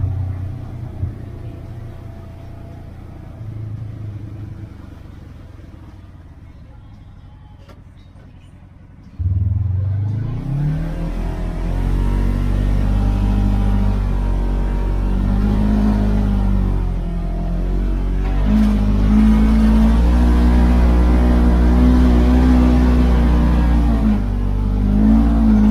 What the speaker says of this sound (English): I got a hill climb here. Probably should put it in four-wheel drive so I don't tear it up.